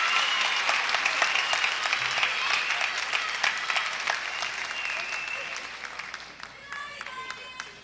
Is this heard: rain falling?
no